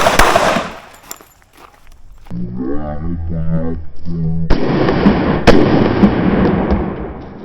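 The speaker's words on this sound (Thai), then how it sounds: "คนร้ายเข้ามาแย่งปืนก็ยิงบริเวณเนี้ย สองนัด ติดกันเลย" Two gunshots fired back to back at close range during a Thai close-quarters self-defence shooting demonstration; after a hollow rumble, a sharp loud crack lands at about 4.5 s and a second at 5.5 s, each trailing into broad ringing noise.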